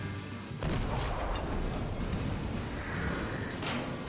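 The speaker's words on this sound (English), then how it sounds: "Let's fire off the heat rounds that we've got." Naval guns firing heat rounds in the World of Warships video game, a dense rumbling barrage of booms layered over constant engine and sea noise that stays loud throughout.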